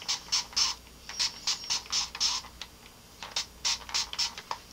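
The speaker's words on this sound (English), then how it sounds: "I'm going to spray that." A hand spray bottle spritzes product onto relaxed hair with buildup, giving about a dozen quick, close hissing bursts in an uneven rhythm with short gaps between them. No one speaks.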